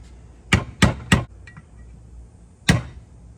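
Metal hammer blows pounding down bent prongs of a slotted washer against a nut on a 1966 Jeep J3000 Ross manual steering gear box: three quick sharp strikes, a pause, then one more, close and alone.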